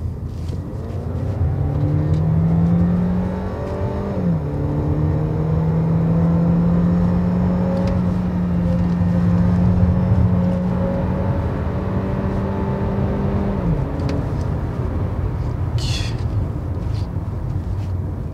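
A 2016 Audi A4 1.4 TFSI engine hums and revs up through steady rising tones, with a shift partway through, then eases off; loud and close, with no voices.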